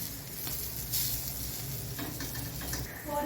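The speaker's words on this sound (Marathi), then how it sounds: "अशी ही भेंडी मी चांगली परतून घेते" Stuffed okra (bharli bhendi) sautéing in a pan, giving a steady close sizzle with a few soft stirring scrapes that run without a break and with no voices.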